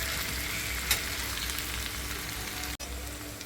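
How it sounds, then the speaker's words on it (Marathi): Green chilies roast in a pan for an egg chutney, giving a close, even, continuous sizzle and crackle with a faint clink now and then, and no voices. "हे आपली मिरची पण यामध्ये मस्त इथे भाजून येते"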